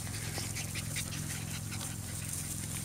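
A Norwegian Elkhound pants quietly and steadily in rapid breaths, faint and close against a low background hum, with no one talking.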